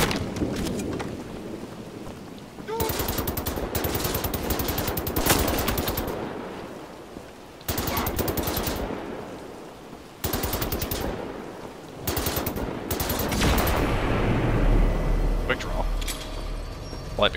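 Light machine gun fire in Wolfenstein: The New Order, loud sustained bursts with short pauses between them, repeating several times against a rumbling backdrop of game ambience.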